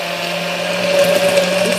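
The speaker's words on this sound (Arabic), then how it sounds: "وفي الخلاط يعني اشتغلي في الخلاط عادي جدا" An electric blender whirs steadily as it beats an egg, a loud continuous motor drone with a slight rise in pitch partway through, heard alone without talk.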